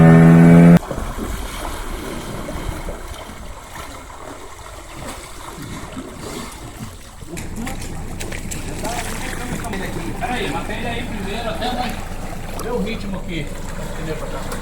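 Someone's dinghy, acting as the starboard motor, drives its outboard at full throttle to push the sailboat Touka along the Pará River in the Amazon. A steady engine drone with water wash runs under people talking.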